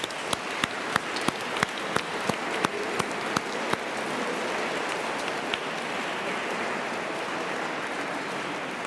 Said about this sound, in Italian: Facciamo un applausino anche a loro, no?